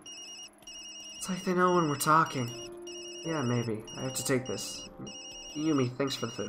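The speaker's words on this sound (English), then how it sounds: "Sorry, Yumi, that's my phone." A phone in the video game Tokyo Dark rings in a repeating electronic ringtone pattern under steady dialogue between characters.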